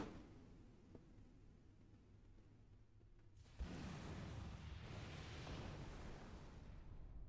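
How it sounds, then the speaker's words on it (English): A door is breached with an explosion in the Star Trek Online video game, producing a sudden loud boom that gives way to a sustained rumbling roar over low background noise. "Should have stood back and get a cloud of explosion in your face."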